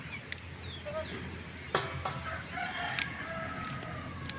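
A chicken rooster crows at a rural Thai orchard while the hens forage nearby. The drawn-out crow sounds moderately distant over a steady outdoor background of soft clucks and ambient noise.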